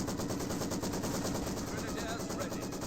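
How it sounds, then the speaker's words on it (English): Rapid, sustained bursts from a Maxim machine gun in the battle game Company of Heroes 2, a dense rattling chatter of gunfire filling the whole stretch with battle noise. "Now with the Maxim fired away"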